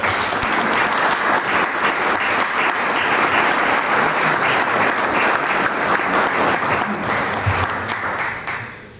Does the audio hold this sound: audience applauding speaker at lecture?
yes